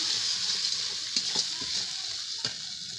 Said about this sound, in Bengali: এগুলোকে খুব ভালো করে মিশিয়ে নেব আর কষিয়ে নেব